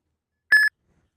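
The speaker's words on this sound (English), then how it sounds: "Your phone will start beeping, and the screen will flash." A single short electronic beep from a smartphone running the Uber driver app, signalling an incoming trip request; a clear tonal chirp lasting under a quarter second, alone against silence.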